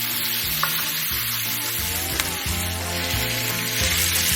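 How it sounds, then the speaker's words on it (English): Onion, carrot and celery with a pinch of salt sautéing in a pan, a continuous close sizzle with faint stirring, under a low steady tonal background. "A pinch of salt, and then I'll stir these around and let them cook until they're soft."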